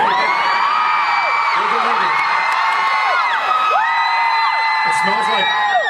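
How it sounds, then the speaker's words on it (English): Convention hall crowd at a fan panel screaming and cheering, dense shrill whoops and yells rising and falling in waves, loud and continuous throughout. "Let's hear some more screaming"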